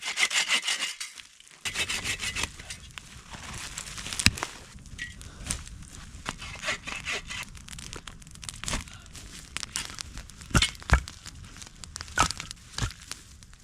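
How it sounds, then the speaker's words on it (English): A hand saw cuts through firewood at a camp, with rhythmic rasping back-and-forth strokes close by and occasional sharper scrapes and knocks as the blade works through the log. "Cutting firewood's a great way to get the blood pumping in the morning."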